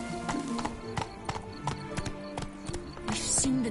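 A horse trots in The Witcher 3 video game, its hooves clip-clopping in a quick, even rhythm, close and clear, with a brief whinny-like sound near the end.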